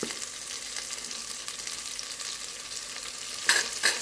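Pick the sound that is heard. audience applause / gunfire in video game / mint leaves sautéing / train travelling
mint leaves sautéing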